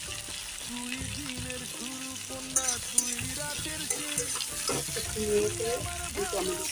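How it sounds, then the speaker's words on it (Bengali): Ginger paste goes into a pan of frying potatoes for a vegetarian Malabar spinach dish, bringing a steady sizzle and stirring scrapes with a few sharp clinks, while someone talks throughout. "এখন আমি আদা বাটাটা দিয়ে দিচ্ছি"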